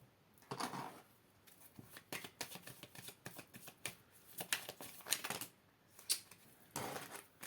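Tarot cards are shuffled and drawn at close range, giving soft, irregular papery flicks and snaps with brief pauses between bursts and no voice.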